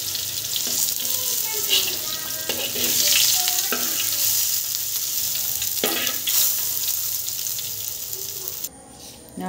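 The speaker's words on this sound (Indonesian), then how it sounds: "Jadi aku gorengkan tahu sobat udah" Tofu fries in a pan with a loud, continuous sizzle and spatter. Occasional utensil clinks sound up close, and the frying cuts off abruptly near the end.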